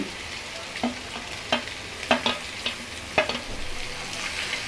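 Boiled egg pieces fry with onion masala in a pan and get stirred. A continuous sizzle runs under a series of sharp spoon scrapes and clinks, roughly eight of them at an uneven pace, close and fairly loud.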